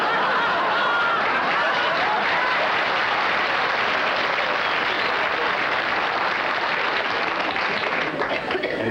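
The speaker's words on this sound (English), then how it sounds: "which is what the audience was applauding for" A studio audience at the Groucho Marx quiz show You Bet Your Life claps loudly and steadily for about nine seconds, a dense unbroken wash of applause with a few chuckles mixed in.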